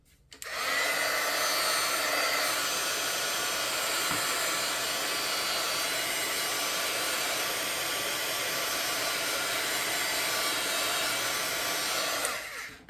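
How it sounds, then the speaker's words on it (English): A heat tool blows steadily while drying wet paint on mixed media bookmarks. The loud, even hiss and whoosh runs unbroken for about twelve seconds with no talk. "Let's hit them with a tiny amount of heat at a distance."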